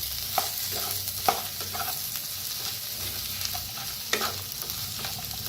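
A potato bhaji mixture with sugar, salt and coriander is stirred in a pan, making soft scraping and clacking strokes at an irregular pace over a continuous sizzle.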